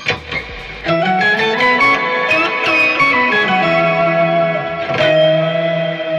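Sustained electric guitar notes and chords with a doubled, higher octave tone layered on top, bright and slightly distorted, played alone without speech.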